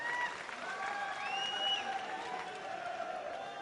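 Crowd at a political rally in Gujarat clapping, a sustained wash of applause heard from a distance, with tonal whistles or cheers rising and falling over it.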